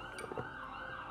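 Ambulance siren outside a home in Brooklyn, faint and distant, its wailing tone carrying on steadily through the short moment with no talk over it.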